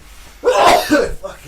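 A single short sneeze, loud and close, bursting out during a live talk stream.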